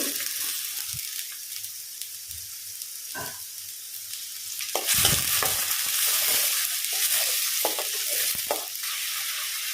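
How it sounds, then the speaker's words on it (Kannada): Chopped onion fries in hot oil in a pan, giving a steady crackling sizzle with the clatter of stirring over it, growing louder and busier about halfway through. No one speaks. "ಒಂದು ಬಾನಲೆ ಬಿಸಿಯಾಗಲಿಕ್ಕೆ ಇಟ್ಟಿದ್ದೇನೆ ಅದಕ್ಕೆ ಸ್ವಲ್ಪ ಒಂದು ಎರಡು ಮೂರು ಸ್ಪೂನಷ್ಟು ಎಣ್ಣೆ ಎಣ್ಣೆ ಬಿಸಿಯಾಗುವಾಗ ದೊಡ್ಡದೊಂದು ಈರುಳ್ಳಿ ಸಣ್ಣ ಸಣ್ಣದಾಗಿ ಕಟ್ ಮಾಡಿ"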